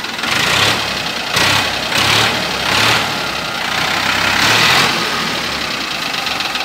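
The diesel engine of a 2010 Farmtrac 60 tractor idles close by just after starting, a steady rumbling chug with a rhythmic knocking pulse and no voices.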